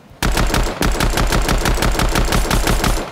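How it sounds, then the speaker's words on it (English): Video game gun firing a fast, steady automatic burst of close, loud shots for about three seconds, with a short gap near the start, and no talking. "That's me shooting at nothing."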